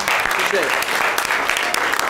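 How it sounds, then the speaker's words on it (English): Church congregation clapping on a Sunday baptism service, a loud, dense burst of applause filling the room with a voice speaking over it. "Is This where you clap."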